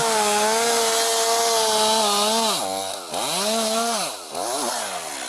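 A chainsaw drones loud and steady, then bogs down and revs back up several times as it bites into a fallen tree.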